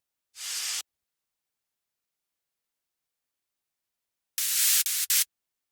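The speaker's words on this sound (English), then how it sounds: "After that, we have these sweeps which sound like this." Noisy sweep effects built from a snare sample for high tech minimal electronic music: a short hissing burst, a pause, then a brighter, louder whoosh with quick stuttered cuts, no voices.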